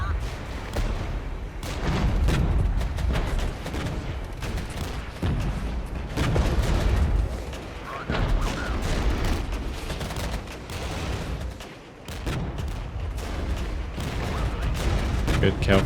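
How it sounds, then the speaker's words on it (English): Mortar and artillery fire in the Regiments war game, with dense, continuous booms and crackling gunfire layered over one another at steady high intensity throughout, with a brief dip near the end. "let's let the mortars do their job"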